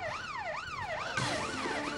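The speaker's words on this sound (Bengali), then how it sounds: "অ্যাম্বুলেন্সের আওয়াজ না?" An ambulance siren wails in a continuous rising and falling sweep, loud and steady, switching partway through to a faster, harsher cycle.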